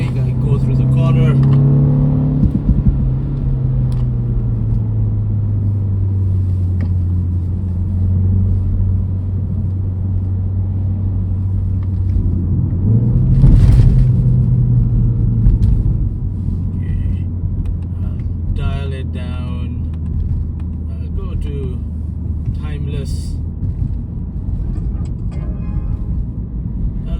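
A 2025 Mini Cooper JCW three-door taking a corner on a public road without braking, its engine humming steadily from inside the cabin, pitch dipping and then rising briefly mid-turn before settling into a low, even drone.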